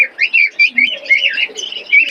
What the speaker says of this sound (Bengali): দেখেন কবুতরগুলো খুবই সুন্দর।